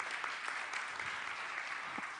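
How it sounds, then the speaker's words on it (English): An audience at a creative leadership talk gives a round of applause, a faint, distant patter of many hands clapping steadily for a couple of seconds. "Big round of applause for Lolita for getting the right answer"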